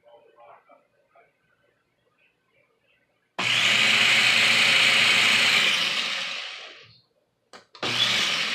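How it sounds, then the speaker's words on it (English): A blender whirs loudly and steadily for about four seconds while blending a vegan mac and cheese sauce, then winds down. After a brief pause it starts again, with faint kitchen clatter before the first run. "it is time to blend it. So let me blend this down"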